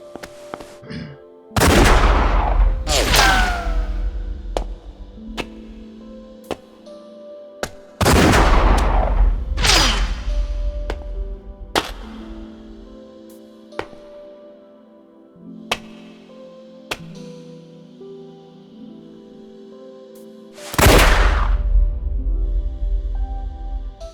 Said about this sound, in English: Shoot them already!